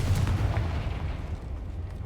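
A Confringo fire spell explodes in Hogwarts Legacy. A deep booming blast is followed by rumbling, crackling debris that fades over about two seconds, loud and alone.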